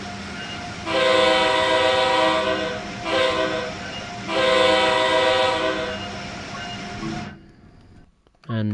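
An Amtrak Acela Express horn in Train Sim World 3, heard from inside the cab, sounds in three loud sustained blasts with short gaps between them, then cuts out over a low rumble.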